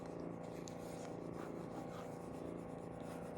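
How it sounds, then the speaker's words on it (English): A tool rubs a transfer down onto a jewelry box freshly painted with chalk paint, producing a faint, steady scraping hiss with no distinct strokes and no speech. "I'm gonna push it down, and I'm gonna go ahead and just burnish it on."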